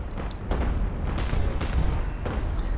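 Airship cannons fire in the Cloud Pirates alpha game, several heavy booming shots spaced about half a second apart over a constant rumbling drone, fairly close and loud.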